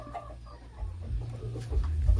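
A farm chicken clucks softly in short bursts, fairly quiet and close, over a low steady background rumble with no talking.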